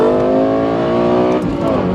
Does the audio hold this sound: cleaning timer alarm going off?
no